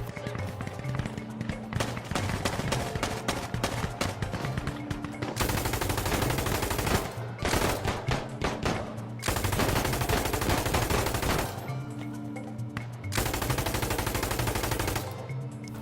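Gunfire in the video game Insurgency Sandstorm, loud close bursts of rapid automatic fire alternating with sustained sprays of shots, over a low background engine-like drone.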